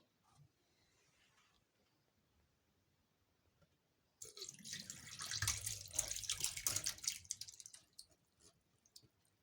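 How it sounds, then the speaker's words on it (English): Milk draining out of raw liver into a sink, heard as a steady running, splashing water flow that starts abruptly after a few quiet seconds, fairly close and loud, then tapers off with a few drips. "I'll now drain the milk that is in the liver."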